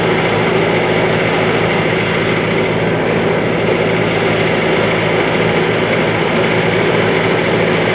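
A Bobcat S530 skid steer fitted with a new engine runs loud and close, giving a steady, unbroken diesel drone for the whole stretch without any talking.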